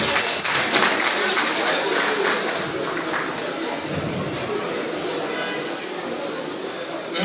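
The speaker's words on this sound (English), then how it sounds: "Please let's give you a round of applause" Steady, dense applause fills a lecture hall at an 80th anniversary lecture, sustained without pause for several seconds.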